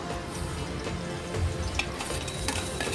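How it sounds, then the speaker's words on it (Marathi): Chopped onion fried in oil with ginger over a low flame for restaurant-style chole masala, a steady soft sizzle with occasional stirring clicks and scrapes, no one talking. "कांद्यालाही आपल्याला गोल्डन ब्राऊन होईपर्यंत छान असा कमी फ्लेमवर परतून घ्यायचा आहे"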